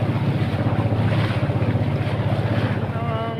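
A motorboat, a Filipino bangka, drones past with a steady throbbing engine off Quezon Province, Philippines, mixed with wind buffeting the microphone and water rushing.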